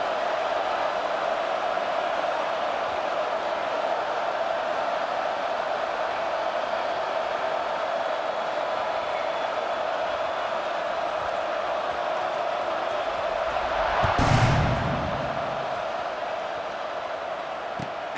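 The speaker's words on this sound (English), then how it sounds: "this crowd is feeling themselves after that last drive" Stadium crowd noise in the EA Sports College Football 26 video game, a steady, fairly faint roar and murmur throughout, swelling briefly near the end.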